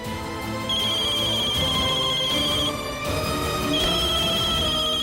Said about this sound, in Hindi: का फोन आ रहा है